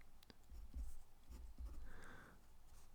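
Chalk or marker writing on a board during a maths lesson gives faint scratchy strokes and taps in a quiet room, with no talk over them.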